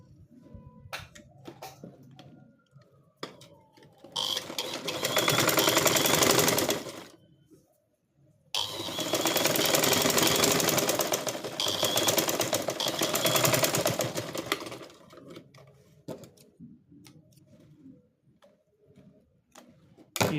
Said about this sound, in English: I'm going to sew this part straight down to here. So let me do it.